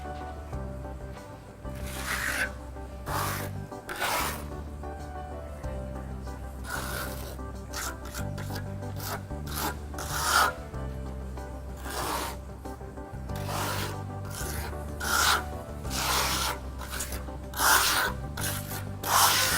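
An epoxy trowel coat spread and burnished smooth across a floor by hand trowel, heard as repeated close scraping strokes in an irregular rhythm over a low steady hum, with no talk.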